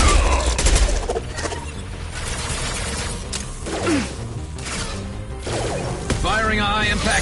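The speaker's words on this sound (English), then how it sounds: "Firing a high-impact shot." Gunfire in the video game Mass Effect 2, a dense run of rapid shots and crashing impacts with whooshes, loud and continuous across the clip alongside game speech.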